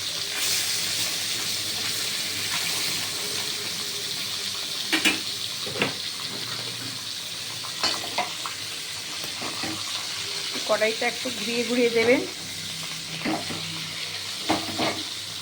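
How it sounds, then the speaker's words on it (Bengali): Small parshe fish sizzle steadily in hot oil in a wok while a voice speaks over the frying, accompanied by occasional clinks and scrapes of a spatula and sharp spits of oil. "তেল গরম হয়ে গেছে এবার আমি মাছ ছেড়ে দিলাম সব মাছ একসাথে দেব না চারটে চারটে করে ভেজে নেব"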